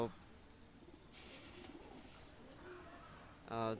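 Pakistani pigeons give soft, low cooing in the background, faint and close to the noise floor, with rustling and a short burst of wing flapping or movement near the end.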